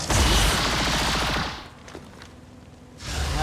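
Gunfire from soldiers in the XCOM video game, a loud dense burst of overlapping shots that cuts off into a quieter lull before another heavy volley returns.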